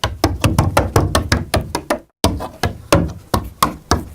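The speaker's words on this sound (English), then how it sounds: "Goblin claws." Banjo picks worn as goblin claws for Foley produce a steady series of sharp, close clicking taps in an uneven rhythm, with one brief silent gap partway through.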